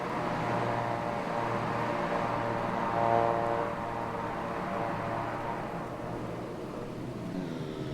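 Pilatus PC-12 turboprop engine in Microsoft Flight Simulator, a steady droning hum with a constant low whine, swelling slightly midway and then settling, no voices.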